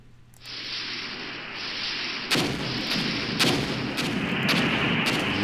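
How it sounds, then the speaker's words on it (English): Artillery fire in the tank war game Armored Brigade: a steady roar of distant bombardment thickens from about half a second in, then several sharp, loud blasts land one after another over a rumbling backdrop. "Look at that artillery."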